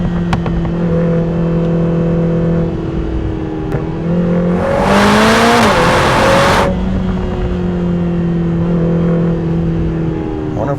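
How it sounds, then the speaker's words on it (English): A turbocharged four-cylinder Lotus Emira engine idles and revs, with a sharp hissing burst of pop-off valve blow-off and turbo fluttering in the middle before it settles back to a steady drone. "You can hear that pop-off valve coming off. It's got a lot of turbo flutter,"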